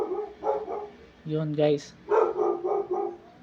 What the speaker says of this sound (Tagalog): Pasensya na kayo sa aso